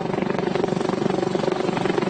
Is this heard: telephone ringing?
no